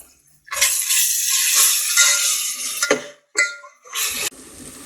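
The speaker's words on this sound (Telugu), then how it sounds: "ఈ అల్లం వెల్లుల్లి పేస్ట్ కూడా పచ్చివాసన పోయేదాకా వేగనివ్వాలన్నమాట" Ginger garlic paste sizzling and frying in a pan while making farm chicken biryani, a loud, steady hiss with short breaks between bursts.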